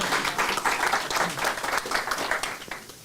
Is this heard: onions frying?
no